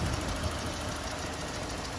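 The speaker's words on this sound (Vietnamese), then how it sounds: "Đây, máy nổ rất êm luôn này." A 2005 Toyota 1.8 car engine idles smoothly and steadily, a continuous low hum with faint regular ticking, recorded close up with no talking.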